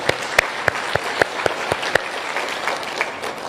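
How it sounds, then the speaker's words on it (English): A crowd at a Kenyan political gathering claps in a slow, steady rhythm of distinct, loud unified beats about every quarter second, blending into a softer ragged spatter of applause at the end. "big clap."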